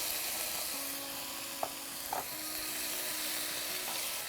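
Tomatoes frying in a pan with capsicum and potatoes for pepe e patate, a steady close hiss and sizzle with a couple of sharp pops and a faint whining tone running underneath.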